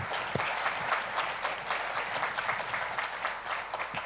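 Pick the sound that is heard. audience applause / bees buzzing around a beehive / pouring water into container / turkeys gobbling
audience applause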